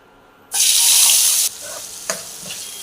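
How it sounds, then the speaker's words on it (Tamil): Chopped big onion drops into hot oil, setting off a sudden loud hiss of frying that holds for a second, then settles into a quieter sizzle with a clink or two. "இனி உள்ளியை நல்லா வதக்கிடலாம்."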